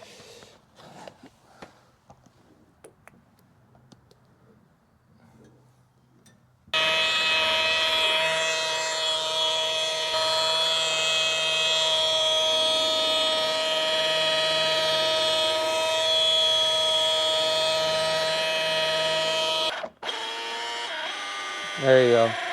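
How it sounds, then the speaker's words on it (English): A machine polisher buffing car paint in a home garage, a loud, steady high-pitched whine running continuously after a quiet start, then cutting off briefly before resuming. "So we're gonna move on to the polishing, and this is what will bring a little bit more shine."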